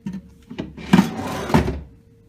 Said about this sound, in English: This is a really big drawer.